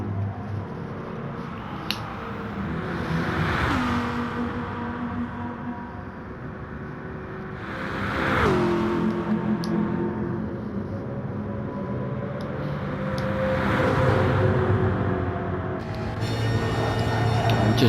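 Jaguar race car engine running in another car's slipstream in a racing video game, a loud continuous drone rising in pitch and dropping sharply with each gear shift, three shifts across the run, ending with a brief clattering burst.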